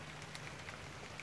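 Rain falls steadily in an outdoor bushcraft camp, a soft continuous patter with scattered drop ticks, brief and moderately quiet.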